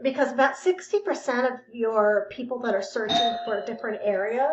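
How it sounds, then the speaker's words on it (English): A doorbell chimes indoors, faint and partly buried beneath a person's steady, continuous talking. "And I apologize for the doorbell ringing."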